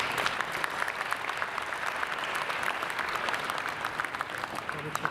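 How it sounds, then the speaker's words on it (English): Steady applause from a crowd, dense clapping that fills the whole stretch at an even level without pause. "please join me in giving them a round of applause"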